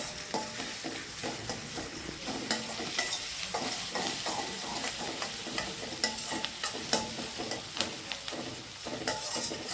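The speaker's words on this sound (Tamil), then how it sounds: "வெங்காயம் மட்டும் நல்லா வதக்கிடுங்க" Onions and vegetables sizzling as they are stir-fried in a pan for fried rice with cauliflower manchurian, steady frying hiss punctuated by rhythmic spatula scrapes and taps, close and with no voices.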